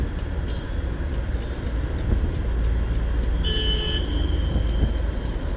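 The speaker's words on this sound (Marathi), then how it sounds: "ते बघ भाई, ट्रॅफिक नाव घेतलं आणि इथंच ट्रॅफिक लागलं" Road traffic during a ride near Pali Bhutivali: a low, steady engine rumble with rhythmic ticking pulses throughout, joined briefly midway by a thin tonal whine.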